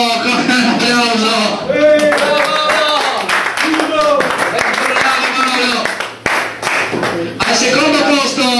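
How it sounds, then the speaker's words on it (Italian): Audience clapping at an award ceremony in Trieste for the 2009 Triveneto event, scattered claps heard under and between a loud announcer's voice speaking over a microphone. "premia da Pretto, con un applauso"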